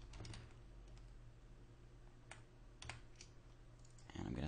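Computer keyboard typing text, scattered faint key clicks over low steady room hum, with a voice starting at the end.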